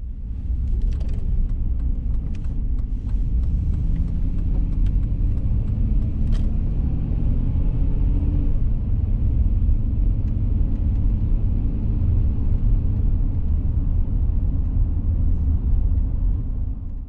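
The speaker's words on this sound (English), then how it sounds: "Take a little drive through before I go out to that RV park." Steady low rumble of a car's engine and tires from inside the vehicle as it drives through a mountain town, continuous and fairly loud, with faint rattles over the road noise and no talking.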